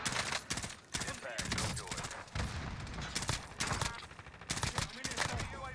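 Rapid bursts of gunfire in the video game Warzone crackle in dense volleys throughout, with loud shots repeating irregularly and a voice talking underneath.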